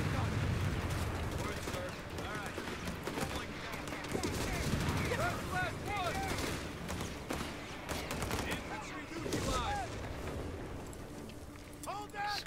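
Gunfire in the World War II strategy game Company of Heroes 3, Italian campaign: dense, crackling bursts of rifle and machine-gun fire rattle on and off, with distant booms and shouted voices mixed throughout.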